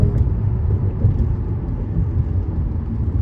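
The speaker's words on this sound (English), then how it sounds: "Running into traffic on interstate." Car travelling on Interstate 10 in slow traffic between New Orleans and LaPlace, Louisiana, a steady low engine and road rumble with tyre whir filling the cabin, continuous and even throughout.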